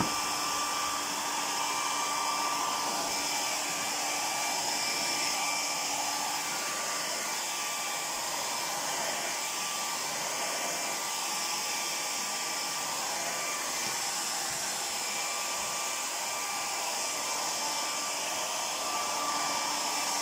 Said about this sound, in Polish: Dawaj tą suszarkę.